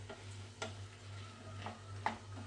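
Raw banana pieces are stirred in a pan with salt and turmeric. A spoon gives a few soft, scattered scrapes and taps against the pan over a steady low hum, with no talking.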